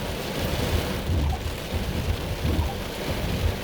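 Heavy rain pours down in a steady broadband roar during a weak supercell thunderstorm with strong wind, and low thundery rumbles swell now and then underneath.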